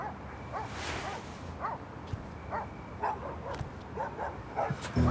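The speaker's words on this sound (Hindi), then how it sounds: "ये कुत्ते क्यों इतना भौंक रहे हैं?" Dogs barking repeatedly outdoors at night, a series of mid-distance barks spaced a second or so apart, moderately loud against a steady background hum.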